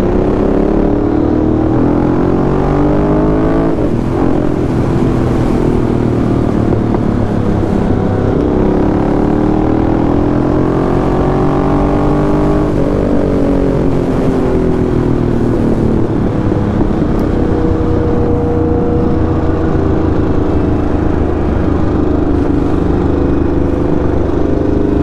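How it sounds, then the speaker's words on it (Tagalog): Red motorcycle engine running steadily and close, a continuous droning hum with shifting pitch as it revs up and eases off, loud throughout with no talk. "Red jacket, red motor. Red motorcycle."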